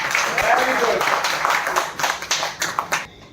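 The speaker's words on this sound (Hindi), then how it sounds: "इसके लिए एक बार तालियां नहीं बनती।" Scattered clapping from guests at a 70th birthday party, a modest burst of hands that thins out and fades into a few separate claps near the end.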